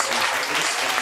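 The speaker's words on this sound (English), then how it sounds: "Can we please have one huge round of applause once again for the two featured acts this evening?" A brief burst of dense crowd applause at an evening comedy night with featured acts, loud and unbroken.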